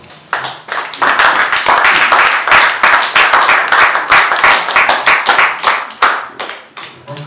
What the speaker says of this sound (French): Nous disons merci à notre papa par les applaudissements.